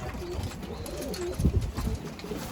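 Adana and tumbler pigeons cooing inside a coop, a steady low murmur of several birds close by, swelling briefly midway.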